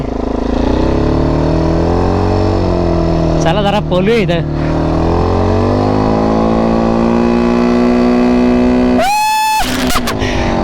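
A small motor vehicle drives forward across the beach at Alibaug, its engine droning loud and close with rising and falling pitch, while people talk over it.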